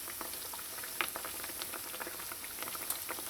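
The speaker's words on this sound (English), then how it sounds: "fry them until they have a really nice golden brown color" Kachoris deep fry in hot oil, a dense steady bubbling and crackle with scattered pops, close and moderately quiet, no voices.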